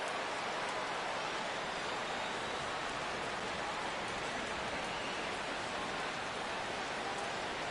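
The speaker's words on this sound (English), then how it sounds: "The rain, as we've mentioned, coming down fairly steadily here at game time." Steady rain pours in a 1975 franchise-mode baseball game in MLB The Show 16, a constant even hiss with no breaks and no voices.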